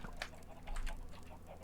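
Several video game chickens in a large flock, clucking faintly and softly in short scattered calls over a low background hum, with no talk.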